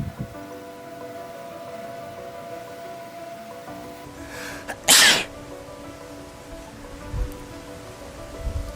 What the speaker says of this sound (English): if I go from a dark area into somewhere that's brightly lit, you know, like looking at the sun, I will sneeze